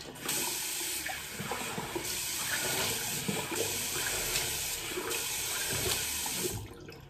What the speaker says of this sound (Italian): Sciacquo il viso con acqua fredda.